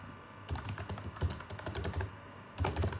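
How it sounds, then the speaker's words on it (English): Rapid clicking keystrokes on a Portronics portable computer keyboard come in close, quick bursts with a short pause in between, and no voices. "I really like this School Portronics keyboard"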